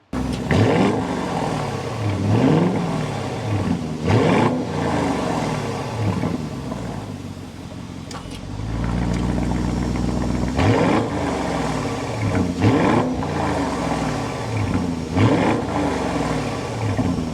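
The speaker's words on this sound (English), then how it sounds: "start it up so you can hear that exhaust note" An Audi SQ8 SUV engine runs steadily with repeated revs rising and falling, a brief dip in the middle, then a deep rumbling exhaust note at idle before more revving.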